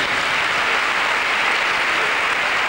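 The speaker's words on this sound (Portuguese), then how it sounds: "Uma salva de palmas para eles." Audience applause at a university student-music-group performance in Lisbon's Coliseu, a steady, dense wash of clapping from a large crowd, even in loudness throughout, with no talk over it.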